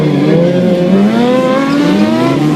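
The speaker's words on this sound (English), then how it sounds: "Aaron Colton balancing right there with the clutch pulled in." Stunt motorcycle engines revving at a street bike jam, loud and close, with the pitch rising and falling through sustained throttle blips and no talk over them.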